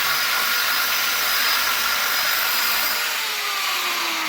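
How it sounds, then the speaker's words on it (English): An angle grinder cuts down straight into metal inside a shed, giving a loud continuous high-pitched whine and grinding hiss that holds steady for the whole stretch before easing slightly near the end. "I'm coming straight down with the grinder, like that."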